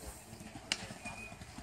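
A mare cruises over ground at a horse sale, hooves thudding in a quick rhythmic beat at moderate distance, with one sharp click partway through.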